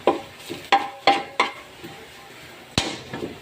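Garlic sautéing in a pan while being stirred: a series of close, sharp scrapes and clacks of a spoon against the pan, spaced irregularly over a faint sizzle.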